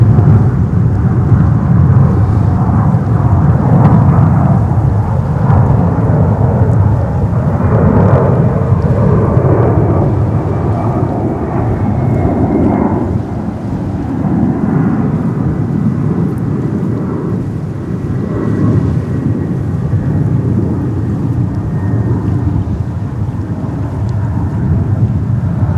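A LATAM Airbus A321 jet passes at JFK airport with a steady, loud, broad roar that swells and holds for the whole stretch, a faint rising whine threading through it, with no talk.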